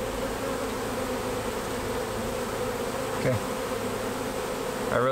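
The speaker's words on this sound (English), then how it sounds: "There's a few more bees over this way" A honey bee swarm gives a dense, continuous drone that stays steady and close for the whole stretch, with a faint brief disturbance near the end and no speech.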